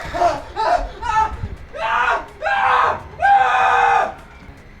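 A streamer lets out a string of loud, drawn-out vocal screams, starting with short bursts and building into longer, sustained yells that fill the clip close to the mic.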